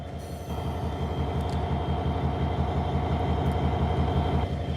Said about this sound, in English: This locomotive is just waiting for the guy down at the end of the yard to realign a switch.